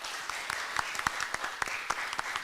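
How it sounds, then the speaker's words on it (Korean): An audience at an open debate for the Ansan candidates in Korea's 22nd general election claps steadily. The applause is dense and sustained from many hands throughout. "박수 한번 부탁드리겠습니다"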